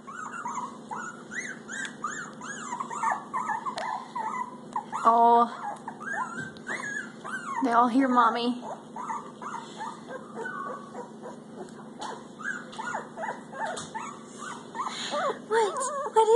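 Pomsky puppies whimper, whine and yip almost continuously nearby, several voices overlapping in rising and falling cries, while someone speaks briefly over them.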